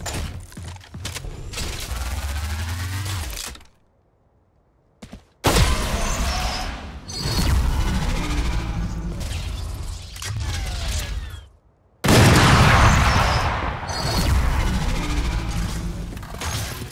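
Bursts of gunfire from Prelude to Chaos weapon skins in Valorant, with heavy punchy shots and shattering, crashing impact layers, fired in several long strings separated by short silent gaps.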